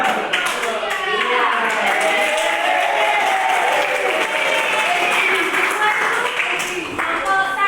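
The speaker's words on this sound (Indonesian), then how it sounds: "Berikan dulu tepuk tangan untuk kelompok 2" A classroom of students applauds group 2, steady loud clapping filling the whole stretch with a few sharper claps poking through.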